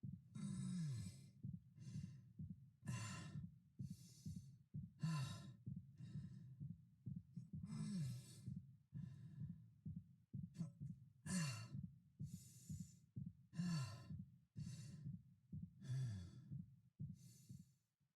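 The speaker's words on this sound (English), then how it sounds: "hearing those injured winces, those fatigued breaths mixed in with his regular breathing actually sounds quite natural" Injured, fatigued breathing from the game character Isaac in the Dead Space Remake: repeated close, strained breaths and sighs with pained winces, rising and falling in an uneven rhythm throughout.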